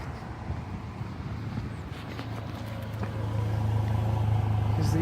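Exhaust of a 2010 Chevrolet Colorado LT truck at idle, a steady low drone that grows a little louder and closer partway through, with some wind noise.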